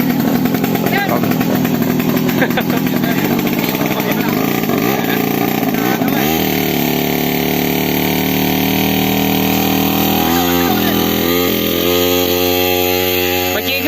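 A loud floating fire pump engine runs continuously, first rough and revving, then settling into a steady droning tone, with a voice talking over it.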